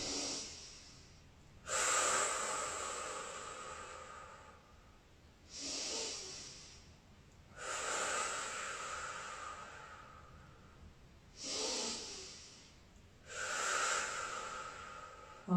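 Someone in a Hatha yoga spinal twist takes slow, deep breaths. Six or so soft, airy inhales and exhales repeat in a steady rhythm, close and quiet, with no talking.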